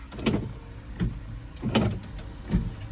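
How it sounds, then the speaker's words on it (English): Windshield wipers on a rental truck sweep back and forth during a pretrip inspection, four evenly spaced motorized swishes close by, with no talking. "So I'm going to demonstrate my wipers are working."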